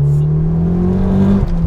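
A budget-built Ford Fiesta with a swapped-in Puma turbo engine pulls hard under acceleration, its loud, steady engine drone rising in pitch for over a second before a brief dip as the revs settle.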